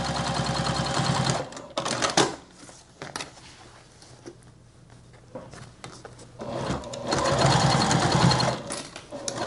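Sewing machine stitching the lining seam of a crossbody bag, close and fairly loud in two bursts of rapid rhythmic whirring separated by a quieter pause with small handling noises.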